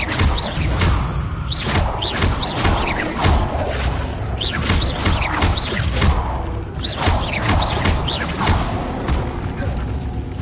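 Levioso spell in Hogwarts Legacy cast repeatedly: loud magical whooshes and rumbling, mechanical thumps recur every second or two over a dense, constant game soundscape.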